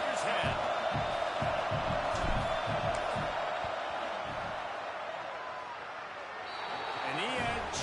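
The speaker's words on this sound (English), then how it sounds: "This crowd trying to do its part to get inside the kicker's head." A football stadium crowd roars steadily during a fourth-down field goal attempt, a dense continuous wash of voices, loud and sustained with no individual words standing out.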